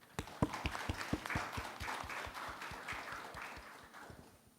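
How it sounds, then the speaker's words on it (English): Conference audience applauding a panel on transport financing, a few close, sharp individual claps over a softer crowd of hands that gradually fades toward the end. "join me in giving a round of applause for the panel"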